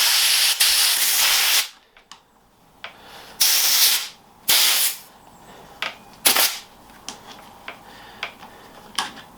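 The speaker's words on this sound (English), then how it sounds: "we're just going to get some compressed air under the grip" Compressed air blasts under a handlebar grip, close and loud: a series of sharp hissing bursts, some long and some short, separated by quiet gaps, with a few faint ticks and clicks between them.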